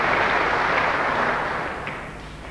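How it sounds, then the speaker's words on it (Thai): Spectators at a Matchroom League snooker match applaud with a loud, even wash of clapping that holds steady, then gradually fades away. "ผู้ชมปรบมือให้นะครับ"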